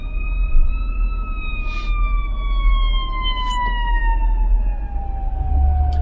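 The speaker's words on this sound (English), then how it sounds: "Fire truck coming here, got to pull over, let the fire truck go by" A fire truck siren wails steadily with slowly falling pitch as it passes, heard loud and near from inside a car pulled over on the road, with low road rumble underneath.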